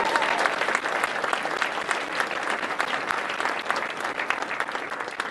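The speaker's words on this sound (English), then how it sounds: "one final round of applause for Dr." Sustained applause from a symposium audience at an ancestral health conference, loud dense clapping throughout, continuous and even without a break.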